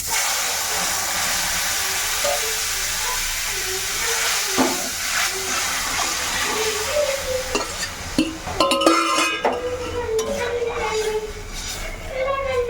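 Panch phoron tempering in hot oil left over from frying pointed gourd, poured into dal seasoned with salt and turmeric, sizzles with a steady bright hiss and crackle, with clattering stirring, while someone talks over it.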